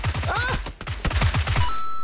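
Tommy gun fire in PUBG, a fast rhythmic burst of punchy shots, a brief pause, then another rapid string, loud and close.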